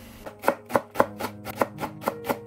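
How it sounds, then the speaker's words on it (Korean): Knife slicing green onions on a cutting board, about nine crisp evenly spaced chops, close and clear with no voices. "파 송송 썰어 넣고"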